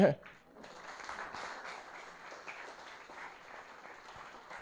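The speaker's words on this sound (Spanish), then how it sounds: "Un aplauso más." Audience applause at a lecture on nanomaterials, a steady patter of clapping that follows a brief voice at the start and carries on evenly throughout.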